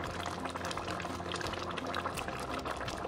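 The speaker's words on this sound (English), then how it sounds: "I'm gonna simmer for another minute and we will be all done with this delicious bitter leaf onigbu soup." Bitter leaf (onugbu) soup simmering in a pot on the stove, a steady close bubbling and gentle sizzling that runs continuously with no talking.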